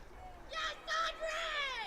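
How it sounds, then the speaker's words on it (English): Crowd at a high school softball game cheering after a two-run home run, a few rising bursts of cheering and shouts in short waves over a steady background murmur. "Still hearing some cheers from the crowd."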